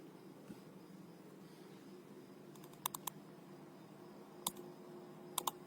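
Someone types on a computer keyboard while writing in MS Word, producing a few faint, isolated clicks and small clusters of key presses over a steady low background hum, with no talking.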